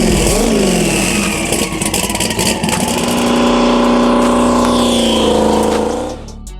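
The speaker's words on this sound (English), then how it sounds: "1200 horsepower turbo Trans Am, 91 millimeter turbo, 388 cubic inch LS on Holley EFI" A 1200 horsepower turbo Trans Am with a 388 cubic inch LS on Holley EFI and a 91 millimeter turbo revs hard up close. A loud rising engine note holds high, then cuts off sharply near the end.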